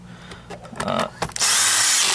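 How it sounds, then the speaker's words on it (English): Power screwdriver driving long screws into the body of a Miele U1 S7 upright vacuum, short bursts of whirring then a sustained loud run near the end, close by. "The other 2 screws in here are very long, so I'm using this longer driver"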